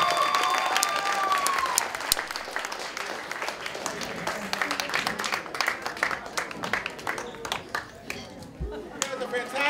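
Audience applause for the bands that performed at a Bach2Rock student music showcase, a dense, steady clapping wash that fills the whole stretch and thins slightly near the end, with a tonal whistle-like sound early on.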